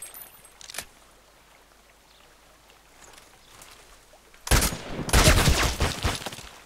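A rapid burst of Glock 18 automatic gunfire in the shooter game Contract Wars erupts loudly after several seconds of near silence, rattling on in close, dense shots.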